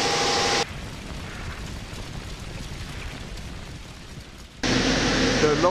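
Gas burners igniting in a fire test furnace for a rated precast wall panel under load: a steady, broad roaring rush fills the space for several seconds, flanked by louder machinery noise before and after.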